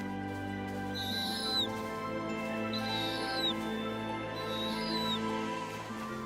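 Snowy owl with its three-week-old chicks, three high rising squeaky calls at even intervals over a faint steady background hum.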